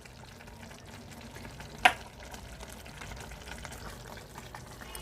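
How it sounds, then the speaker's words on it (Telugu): Coriander and cumin powders frying in hot oil for a prawn egg curry give a steady, close sizzle, broken once by a single sharp clink of a spoon against the pan. "ఇలాగే వేగుతుంది కదండి."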